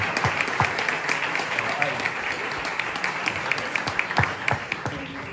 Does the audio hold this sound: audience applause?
yes